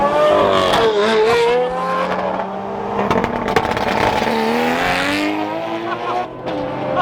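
A loud 6.5-liter V12 car engine roars and revs, pitch climbing and falling with a brief squeal of tires, while excited voices shout over it.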